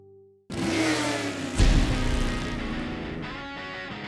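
A trike motorcycle on the road to Wollombi on the Central Coast starts up loud and close, its engine revving and roaring steadily as it rides away, with no talk over it.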